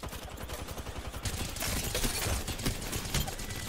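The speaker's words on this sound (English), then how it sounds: "This gun is just insane." Rapid gunfire from a video game weapon rattles in dense bursts, loud and continuous with sharp repeated cracks throughout.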